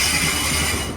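A Northern Ireland Railways train arriving at a station platform, a loud, steady mechanical rumble and rattle of wheels and carriages close by, with no voices.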